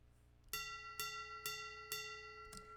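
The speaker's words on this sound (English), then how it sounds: "This is the sound of me hitting a metal pipe." A metal pipe struck five times at a steady pace, each hit ringing out with bright, sustained bell-like overtones that overlap into the next strike.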